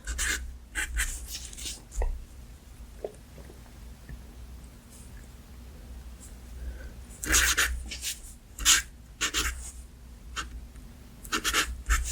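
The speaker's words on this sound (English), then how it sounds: "so let's write the sequence." Sharpie marker writing a geometric sequence on paper, close and intimate, with separate squeaky scratching strokes in short bursts between quiet pauses.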